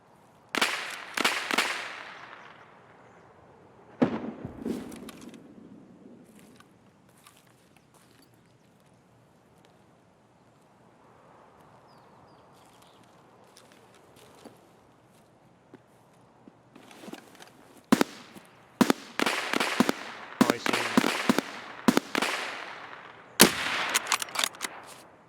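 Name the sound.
gunshots in the video game Escape from Tarkov, Woods map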